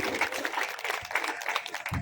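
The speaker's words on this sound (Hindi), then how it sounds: "तो तालियां बजाइए जोरदार के होगा।" Audience clapping at a poetry gathering in Rajodha, Porsa, Morena, a steady broadband patter of many hands lasting the full two seconds at moderate loudness, with brief low thumps.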